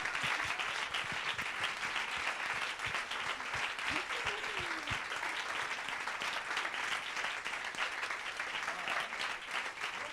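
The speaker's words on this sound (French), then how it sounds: "Sous vos applaudissements, merci pour eux." Audience at a French-language fundraising seminar applauding the organising team, steady dense clapping sustained throughout, filling the hall evenly at moderate loudness with a brief murmur of voices partway through.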